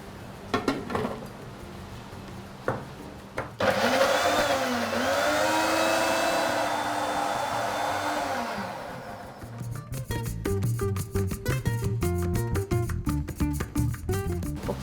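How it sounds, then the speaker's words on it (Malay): An electric blender grinds spice paste ingredients with a little water, starting abruptly and whirring steadily for about six seconds as the pitch wavers, then stopping; clattering kitchen sounds follow. "Kita blender situ je."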